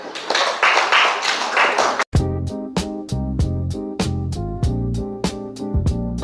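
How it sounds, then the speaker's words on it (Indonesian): An audience claps for about two seconds during an Arabic-language teaching performance session; the dense applause then stops abruptly and gives way to music. "Oke, silakan tepuk tangan."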